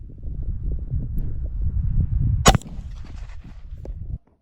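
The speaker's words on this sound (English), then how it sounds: "All right, we just took our second shot" A Ruger American .270 rifle fires a single sharp shot outdoors midway through, cutting through steady wind buffeting on the microphone, followed by a short fading tail.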